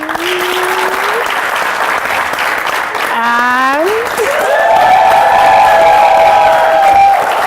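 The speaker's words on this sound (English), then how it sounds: "Give them a round of applause." An audience claps for guests welcomed onto the stage at a Buy Naija event, a loud, sustained round of applause with some cheering under tonal sounds that rise and hold.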